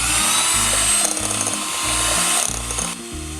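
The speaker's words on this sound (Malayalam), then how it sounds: "അത് ചേർത്തതിന് ശേഷം അത് വീണ്ടും ഒന്ന് അടിച്ചു കൊടുക്കാം." An electric mixer beats sugar and vanilla essence for a no-oven Christmas plum cake, a loud, steady motor whir running throughout, alone.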